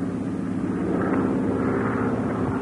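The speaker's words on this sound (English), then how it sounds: "We're not going anywhere while that plane's around." An airplane circling overhead in an old serial film soundtrack, a steady, droning engine hum that holds at a fairly loud level throughout, with no voices.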